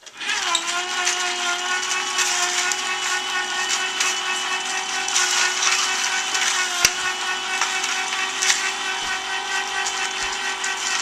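An electric ice cream maker churns homemade ice cream with a steady, loud motor whine and drone that runs continuously, with occasional knocks and clunks from the machine.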